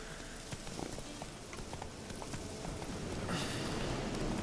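Geralt's horse Roach trots in the video game The Witcher 3, a faint, steady clip-clop of hooves under background game ambience.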